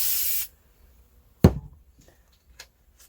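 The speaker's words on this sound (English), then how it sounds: "I'm going to use some spray adhesive and stick it on the book" Spray adhesive hisses from a can in one loud, steady burst lasting under half a second. Silence follows, broken by a sharp thump and a couple of faint handling taps as a pumpkin book is assembled.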